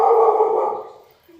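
A pet dog lets out a single loud, close bark that trails off over about a second.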